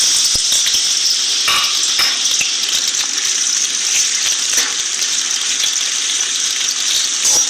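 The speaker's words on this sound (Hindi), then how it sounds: "तेल में हम फ्राई होने के लिए बैंगन डाल लेते हैं।" Brinjal frying in hot oil in a kadai makes a loud, continuous hiss and crackle close by, with occasional sharper pops and scraping stir sounds throughout.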